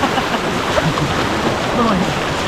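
Strong ocean waves roar continuously at Baler beach, a loud, dense wash of surf with faint voices in the background.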